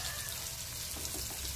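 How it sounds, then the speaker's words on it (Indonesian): Onion frying in hot oil while making mee goreng, with a dense, continuous crackle and hiss that stays steady and close, with no voices over it. "Minyak kita dah panas. Kita letak ni. Bawang kita."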